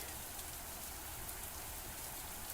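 Heavy rain in the video game MAMIYA falls as a steady, dense hiss with no pauses. It stays fairly quiet and even throughout, with no voices.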